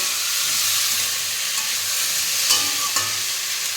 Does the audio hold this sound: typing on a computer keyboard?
no